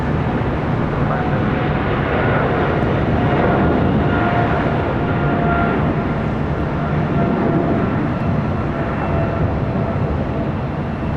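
Airliner engines roar steadily during a takeoff roll at LAX, a loud continuous broadband rumble with air traffic control radio talk running over it.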